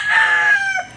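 A pure JB Kelso gamefowl rooster crows once, loud and close, a single drawn-out call that holds steady before tailing off near the end.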